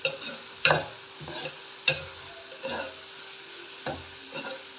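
Tomatoes sizzle quietly in a pan for thakkali thokku, and a spoon stirs them in regular, clearly separate scrapes about once a second. The frying is soft and close, and no one talks.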